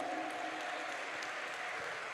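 Church congregation applauding after a sermon, steady dense clapping from a sizeable crowd that holds at an even level throughout, with no voices on top.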